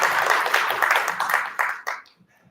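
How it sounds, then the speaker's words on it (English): A room full of people at a community meeting breaks into a short round of applause, scattered claps that thin out and fade after a couple of seconds. "I'd ask that we recognize him and his efforts, maybe with a round of applause"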